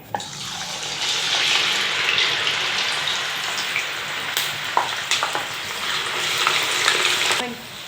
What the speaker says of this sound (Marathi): आपण आधी फिंगर चिप्स तळून घेऊया.